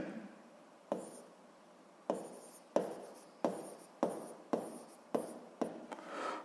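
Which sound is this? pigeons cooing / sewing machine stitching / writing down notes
writing down notes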